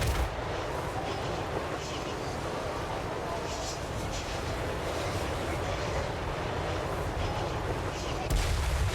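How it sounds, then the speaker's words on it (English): Hell cannons in a strategy video game fire in repeated heavy booms amid continuous battle rumble, with a player talking over the barrage. "the hell cannons just deleting a unit at a time"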